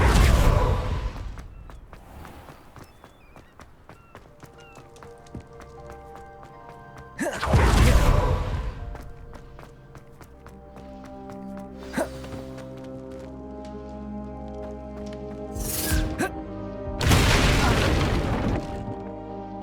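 Spell blasts from the Hogwarts Legacy video game, a few heavy booming bursts with whooshing tails spaced across the stretch, over a sustained musical and ambient game bed.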